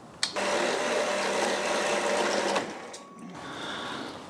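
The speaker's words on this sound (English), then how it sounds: "that allows the bandsaw to get started" A bandsaw cuts through a hydraulic cylinder rod, a loud steady mechanical whine and hum running for about two seconds before it stops abruptly, followed by a quieter lingering hum.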